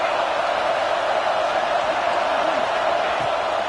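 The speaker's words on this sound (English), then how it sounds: "This crowd bringing the energy and noise early." A packed stadium crowd at a Georgia college football game sends up a steady, dense roar that holds for the whole stretch, with a commentator talking over it.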